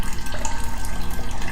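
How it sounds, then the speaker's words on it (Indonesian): Water runs from a half-opened bathroom tap with old, shaky water pressure, a close, continuous gushing splash with a slightly pulsing, wavering flow. "Lalu terdengar air mengalir dari kamar mandi. Keran dibuka setengah."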